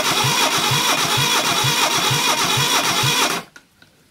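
An engine sitting on a garage floor, showing no compression on cylinder four, cranks with a loud, rhythmic chugging for about three and a half seconds, then cuts out, leaving only a couple of faint clunks.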